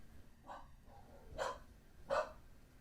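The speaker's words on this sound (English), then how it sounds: "Do you hear my dogs?" Three separate dog barks sound at moderate distance, each short and spaced roughly a second apart, growing slightly louder, over a quiet background.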